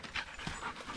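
A dog pants in quick, rhythmic breaths close by on a forest trail at Shindagin Hollow State Forest, quiet and brief with no talk.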